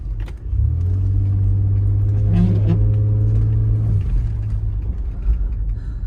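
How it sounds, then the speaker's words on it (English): Drivetrain whine from a 1999 Toyota 4Runner's transfer case, a steady tonal hum over engine rumble lasting a few seconds before fading, heard from inside the vehicle with no voices. "Sometimes you can actually hear the transfer case down in there spinning if you get it just right."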